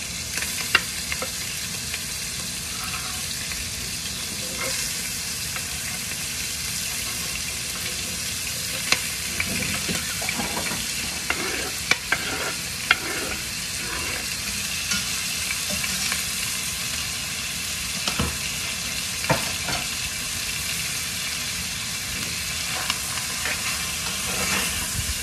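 Vegetables sauté in a whole stick of butter for Cajun dirty rice, giving a long, steady, close sizzle broken by scattered utensil clicks and stirring scrapes, with no voices.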